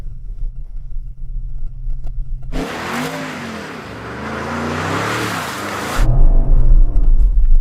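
An Audi all-wheel-drive car being pushed into a drift, its engine revving hard in a loud sustained burst that rises and falls for several seconds before dropping back to a low rumble.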